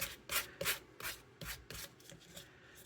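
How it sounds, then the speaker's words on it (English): A sanding block rubs over paper to distress it, with about eight quick, rhythmic back-and-forth scrubbing strokes, close and clear with no talking. "I'm going to take a sanding block."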